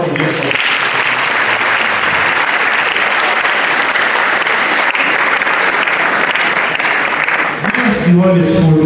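Sustained applause fills a university hall after an inaugural lecture on reproductive and sexual health, a dense steady wash of many hands for about eight seconds before a voice begins speaking near the end.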